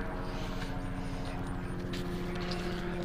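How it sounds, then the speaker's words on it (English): A steady, throbbing engine drone hangs overhead for the whole stretch, with the low chopping pulse of rotor blades; nobody speaks. "I hear a helicopter. There it is."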